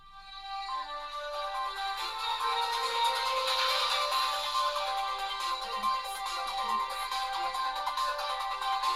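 Bright electronic news intro jingle with a synthesized, ringtone-like melody, playing alone at moderate volume after a brief quiet start.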